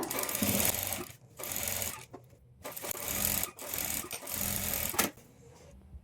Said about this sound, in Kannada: ಈ ಥರ ಸ್ಟಿಚ್ ಮಾಡ್ಕೊಳ್ಳೋವಾಗ